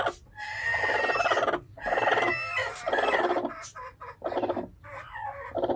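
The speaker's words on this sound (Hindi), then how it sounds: "मुर्गी को बाहर निकाल लिया और अभी भी ये पीछे देख रही है" A broody hen, lifted off her clutch of twelve eggs and set outside her coop room, clucks close by in repeated bursts of throaty, agitated calls with short pauses between them.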